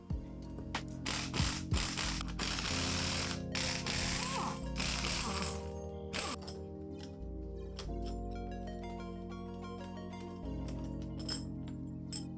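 A spring compressor is ratcheted and unwound from a VW Passat rear shock, giving repeated metallic ratchet clicks, clinks and gear-like whirring up close with no talking.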